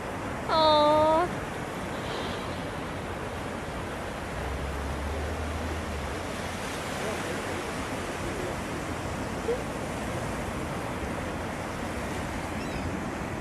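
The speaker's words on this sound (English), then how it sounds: "They just needed a little ocean wave to come in and take them out there." Ocean surf washes steadily ashore on a beach, a broad continuous rushing wash with an early brief high cry over it, moderately loud and unbroken throughout.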